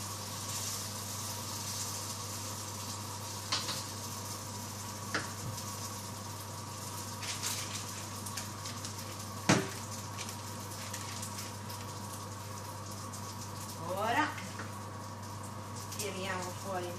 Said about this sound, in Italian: Io uso il wok per friggere per comodità